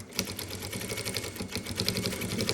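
A sewing machine runs steadily while stitching the top side of a cosmetics case, producing a fast, even mechanical rattle close by with no talk.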